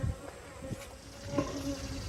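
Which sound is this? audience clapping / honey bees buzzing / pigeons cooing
honey bees buzzing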